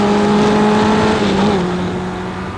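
A Vauxhall junior formula racing car drives past at full throttle, a loud, close engine whine that holds high, then drops in pitch and fades a little as it moves away.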